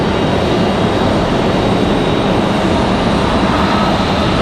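An airliner arriving from Denver at Raleigh Durham airport gives a steady, loud, broadband engine roar that holds evenly without breaks.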